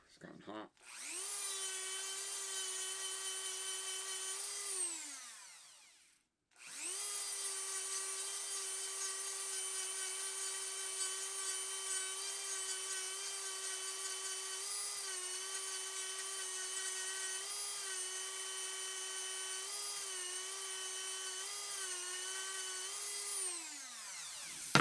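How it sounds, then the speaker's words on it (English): A drum sander grinds against wood with a steady, loud whine that holds for about five seconds, stops briefly, then runs continuously for nearly twenty seconds before winding down. "Just takes longer to change the sandpaper out on those drums than it does to sand the thing."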